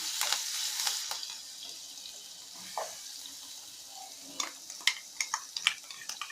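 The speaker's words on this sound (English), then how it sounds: "Now the oil is hot. Let us add the paste of the chilies that we have made." Chili, garlic and curry leaf paste sizzles and spits in hot oil in a home kitchen, a faint, crackly frying hiss marked by a few sharper pops and stirring clatters toward the end.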